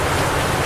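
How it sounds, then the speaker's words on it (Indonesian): Heavy rain pours down steadily and loudly, a dense close hiss with no pauses. "Hujannya semakin deras"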